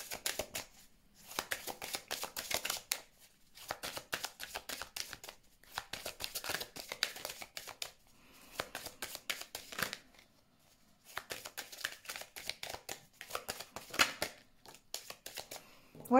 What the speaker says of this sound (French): Donc je vais mettre des cartes sur cette épreuve.